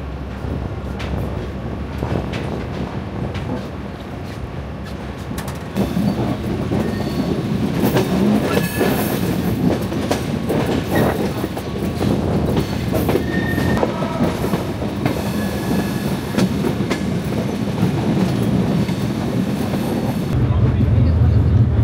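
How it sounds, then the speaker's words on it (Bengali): The Panchagarh Express runs on rails on the Dhaka to Panchagarh route, a loud, continuous rumble with rhythmic clatter from inside the carriage. It swells stronger partway through and keeps going steadily. "আবারও চলতে শুরু করলো আমাদের ট্রেন।"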